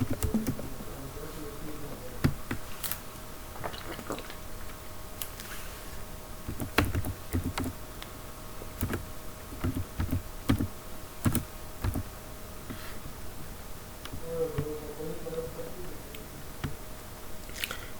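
Figures are typed on a computer keyboard in irregular clusters of quick, close key clicks, with short pauses and a faint background hum.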